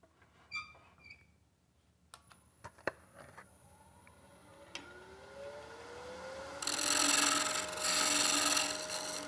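A chisel cuts a wooden hollow vessel spinning on a lathe: a few sparse clicks and knocks, a rising whine as the work speeds up, then a loud, steady rasping scrape of wood being shaved close by.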